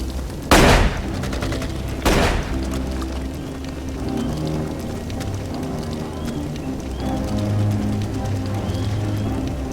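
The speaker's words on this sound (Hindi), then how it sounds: "जल्दी गोली चला।" Two sharp, loud gunshot bursts crack out in a dubbed action film, followed by a lingering, tense rumbling background.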